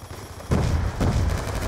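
An airstrike in Black Ops 2 multiplayer lands as two heavy, rumbling bursts about half a second apart, loud and close, with a steady din of battle underneath.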